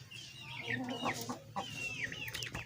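A fighting rooster clucks in short bursts, fairly close, with some low background noise throughout.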